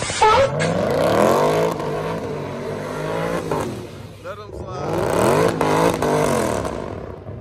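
A Dodge Demon Hellcat Challenger slides and spins its tires, its engine loud and near, rising and falling in pitch through two long surges, with tire noise and voices mixed in.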